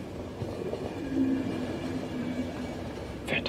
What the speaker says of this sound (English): Fantastic train.